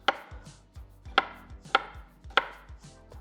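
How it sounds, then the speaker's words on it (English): A knife finely slicing garlic on a cutting board, four or five crisp, evenly spaced chops with light taps in between, close and clear with no voices. "we just need to finely slice"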